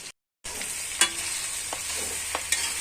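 A spatula stirs puffed rice with turmeric powder in a hot pan for upma: a steady close sizzling hiss broken by a few sharp scrapes and clicks, after a brief silent gap at the start, with no talking.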